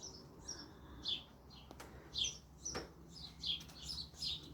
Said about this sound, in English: You can hear all the sound of the bird this morning.